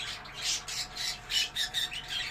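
Several budgerigars squawk and chatter in rapid, repeated bursts, close by and fairly loud, with no voices.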